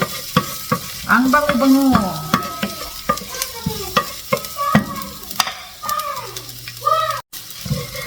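Food frying in olive oil in a pan for a Filipino home-cooked shrimp and vegetable dish, a close, steady sizzle with stirring clatter and scraping, while a voice speaks briefly over it.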